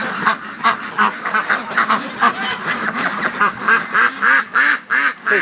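Young ducks in a pen quack and honk in a rapid, rhythmic run of loud nasal calls close by, several birds overlapping without pause and no voices over them.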